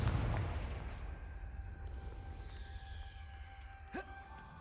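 In the Hogwarts Legacy video game, a Confringo blasting spell goes off with a heavy, booming burst that decays into a rumbling tail, followed by quieter game effects and a brief sharp impact near the end.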